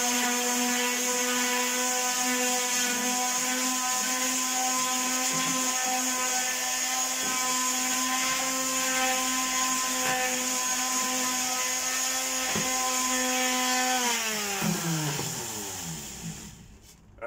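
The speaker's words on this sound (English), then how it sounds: "And a palm sander with a bit of 60 grit on it." A cordless palm sander fitted with 60-grit paper works on wood, giving a loud, steady, close motor drone with a faint scratchy edge. After about fourteen seconds it is switched off and winds down to near silence.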